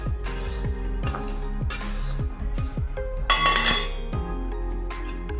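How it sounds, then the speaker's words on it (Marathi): Coriander seeds being dry roasted in a kadhai, with repeated metallic clinks and scrapes of a spoon against the pan in a quick irregular rhythm over a steady low hum, close by. "आता बघा मस्त मी असे धने भाजून घेते।"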